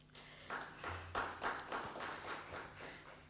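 Sparse, faint applause from a conference audience at a plenary session: a handful of distinct, loose claps spaced unevenly over a few seconds, with a steady low hum behind.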